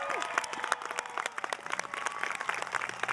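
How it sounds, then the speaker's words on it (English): Audience at a middle school eighth-grade recognition ceremony claps for the graduating class, a scattered, moderately quiet patter of individual claps that continues unevenly throughout without talk. "Would you please give a round of applause to HBW Class of 2021?"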